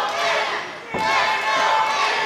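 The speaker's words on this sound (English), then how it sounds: "This Knoxville crowd coming alive." A wrestling crowd in Knoxville roars and cheers loudly, a dense continuous wall of voices that dips briefly and then surges again with a thud in the middle.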